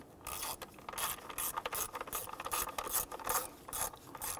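A ratchet wrench snugs down the ignition coil bolts on a Nissan Frontier 4.0L V6, clicking in quick rhythmic bursts of close, fairly quiet ratcheting with no talk.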